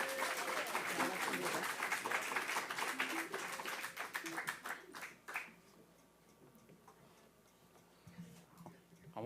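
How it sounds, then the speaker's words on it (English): Audience applause at a community gathering, with dense clapping from a crowd for the first five seconds that tapers off and fades out, leaving quiet room sound and a few faint noises. "Yes, let's give Miss Lily a round of applause."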